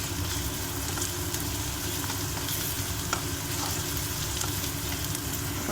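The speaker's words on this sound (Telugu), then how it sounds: "ఇప్పుడు అల్లం వెల్లుల్లి పేస్ట్ వేసుకున్నాము" Ginger garlic paste frying in a pan for brinjal fry, a dense continuous sizzle with a low rumble beneath it, steady and close throughout with no talk.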